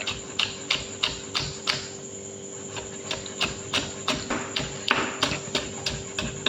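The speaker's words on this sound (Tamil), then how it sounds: "இப்போ பச்சை மிளகாயும் அதேமாரி ஃபைனாக சாப் பண்ணி எடுத்துப்போம்." Green chillies being finely chopped with a knife on a board: a quick, steady run of sharp close taps, evenly spaced, with no talking.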